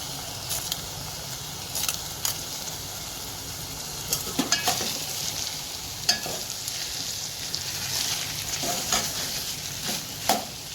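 Green mung beans are tipped into a hot pan and stirred, with repeated spoon scrapes and knocks breaking over a quiet, steady sizzle for several seconds.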